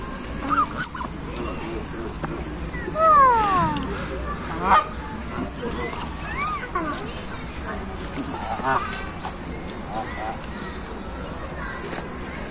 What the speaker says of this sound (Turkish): şu kazlara kaza benziyor bunlar da